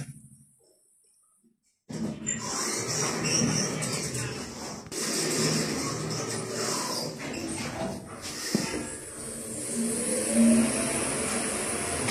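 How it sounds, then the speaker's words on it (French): An elevator motor at La Timone hospital in Marseille hums and whirs steadily for about ten seconds after a quiet start, fairly close and even, with some mechanical rattle and no talk. "Très beau bruit de moteur."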